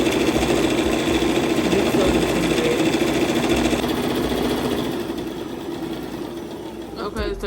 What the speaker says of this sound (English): let's do another back stitch to lock in our stitch